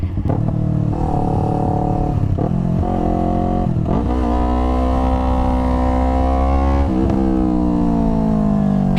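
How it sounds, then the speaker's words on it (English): A motorcycle engine roars loudly up close as the rider downshifts through a corner, with several quick throttle blips that push the pitch up and down before a steadier pull. "See how when I went around that corner I downshifted and blipped and all that fun stuff going in?"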